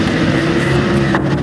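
Grasstrack racing motorcycles at a 1990 meeting roar at the start line, giving a loud, continuous engine drone that stays steady and dense for a brief moment.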